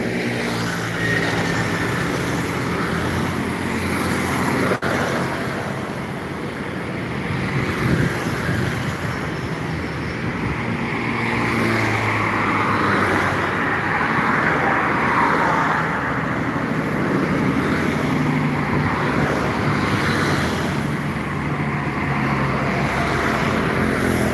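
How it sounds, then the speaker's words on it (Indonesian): Trucks roll past on a roadside in Indonesia, a continuous loud rumbling drone of heavy engines and tyres that swells and eases as the vehicles go by, with one sharp click partway through. "Masih truk-truk aja yang melintas baru bang, belum kelihatan busnya"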